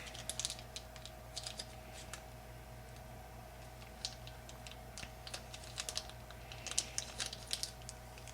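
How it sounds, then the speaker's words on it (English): Fingernails pick and scratch at a roll of invisible tape, making a quiet, close run of uneven tapping clicks in scattered bursts, with no talking. "Why can't I get this tape off?"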